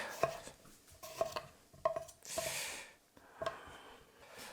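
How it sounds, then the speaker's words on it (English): A knife chops through swede on a cutting board in a home kitchen, giving five or six sharp, separate thuds spaced about a second apart, fairly close, with a brief rustle of pieces being moved between strokes and no talking. "Cut some swede"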